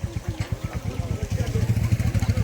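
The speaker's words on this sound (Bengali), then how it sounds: "এটা হলো একটা ট্রেনের ইঞ্জিন" A diesel train locomotive stands idling at a station platform on the Lalgola line, its low engine rumble throbbing in a steady pulse, close and fairly loud, with voices and station bustle nearby.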